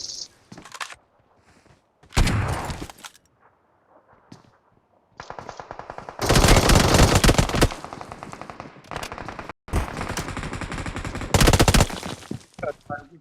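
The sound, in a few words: pump shotgun gunfire in a video game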